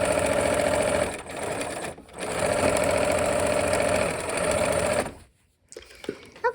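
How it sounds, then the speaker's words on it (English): Sewing machine stitching the fabric seams of a flower basket quilt block, a steady loud mechanical hum running for about five seconds with brief dips in speed, then stopping abruptly into near silence. "All right, let's go ahead and sew."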